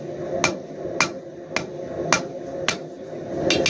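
Hammer striking hot steel on an anvil while drawing out a taper for a forged bottle opener, six sharp metallic blows at a steady, slightly uneven pace over a low background hum.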